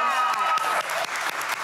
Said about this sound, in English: So give her an applause.